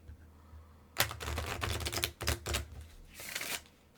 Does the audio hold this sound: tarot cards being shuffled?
yes